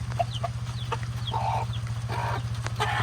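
A hen clucks steadily in short, low calls nearby, with chicks peeping and chirping around her and a constant low hum in the background.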